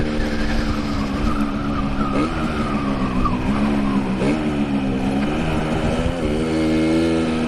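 Old two-stroke motorbike running slightly rich and smoky on a ride, a steady loud engine note with shifting pitch as the revs rise and fall, and wind roar throughout.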